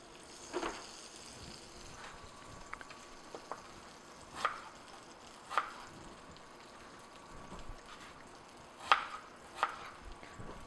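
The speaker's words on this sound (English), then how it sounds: "just slice them into about 1/4 inch, about 1/2 centimeter" A knife slicing apples taps sharply against a cutting board at irregular intervals, several distinct chops over a quiet background hum.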